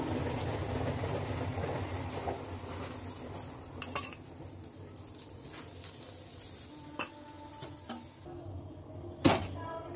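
Kulcha flatbread frying with oil on a pan gives a steady low sizzle, with a few light clinks of a utensil against the pan and a short sharp knock near the end.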